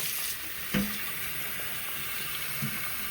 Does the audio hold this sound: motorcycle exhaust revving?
no